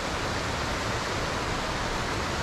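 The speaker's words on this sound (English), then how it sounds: "That's just hearing the noise of the river." A river flows outdoors on a sunny day as a steady, dense rushing roar, loud and unbroken, with no voices over it.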